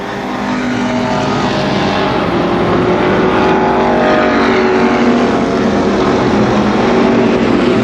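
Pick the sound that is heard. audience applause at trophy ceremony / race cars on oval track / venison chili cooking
race cars on oval track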